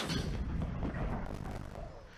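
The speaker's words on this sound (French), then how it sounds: "J'ai un mortier, les gars. Regardez là-bas. Je tire." A mortar in a Minecraft helicopter mod fires with a dense, booming roar that fills the whole stretch, loud and continuous with rumbling low end and no clear separate shots.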